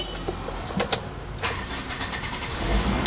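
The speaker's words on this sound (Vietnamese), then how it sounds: "Lắc nó nhẹ chìa khóa nổ máy thôi." A 2004 Toyota Zace GL is started with the key. The engine cranks briefly and then catches into a steady, close running idle.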